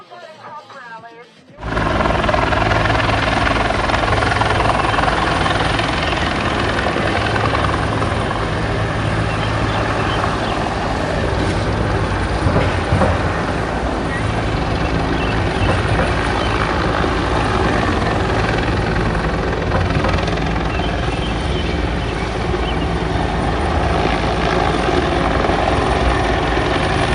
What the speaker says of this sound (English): You see the helicopter right above me?